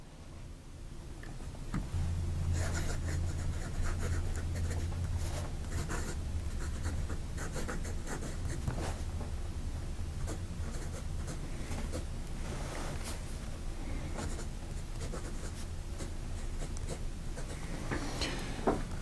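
A Sailor Profit 1911 Standard fountain pen with an S-B nib writes on paper, making a soft, continuous scratchy whisper broken by small ticks from strokes and lifts, heard alone and close.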